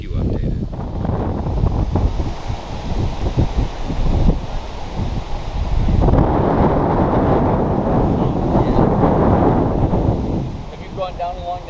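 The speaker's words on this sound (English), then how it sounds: "this constant pounding of wind" Strong, constant wind buffeting the microphone beside a river during a night of bass and catfish fishing on the Fox River, a loud, steady roar that surges midway and drowns out a speaking voice.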